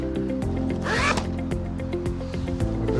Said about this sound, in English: Just unzip it, take it off